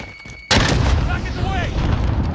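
A frag grenade explodes in a multiplayer shooter game, a sudden loud boom that rolls into a long rumbling tail, with faint game sounds before it.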